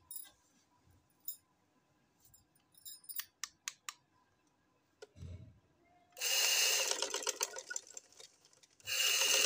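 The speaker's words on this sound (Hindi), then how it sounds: "हम सिंपल ही वो बाजू की सिलाई लगा लेंगे, ये ज्वाइंट नीचे की तरफ कर देंगे आगे पीछे से।" A sewing machine stitching a shirt sleeve, first a few short clicks and scissor-like snips, then two loud sustained bursts of rapid mechanical stitching close by.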